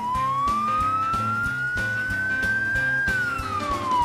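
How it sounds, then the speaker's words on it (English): A fire engine siren sounds loud and close, a steady tone that rises slowly and then falls, layered over a pulsing rhythmic musical backing. "It has lights and sirens, so people know we're coming, and they can get out of our way"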